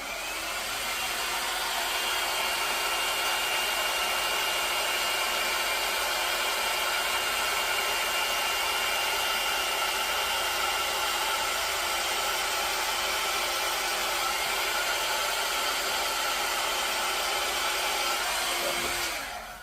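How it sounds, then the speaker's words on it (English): A hair dryer blowing on wet paint on an abstract artwork, a loud steady whirring roar that runs unbroken and close for the whole stretch before cutting off at the very end. "when I have to go back a second time with my hairdryer"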